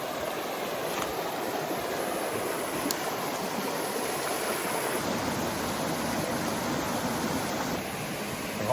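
Rainforest creek flowing steadily at a junction of two streams, a continuous broadband rush of water close by with no voices, holding level throughout.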